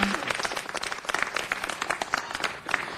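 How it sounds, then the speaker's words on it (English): A city council meeting audience applauds in a broad, steady round of clapping from many hands, fairly close and sustained throughout, with no talk over it. "Let's give them all a big round of applause."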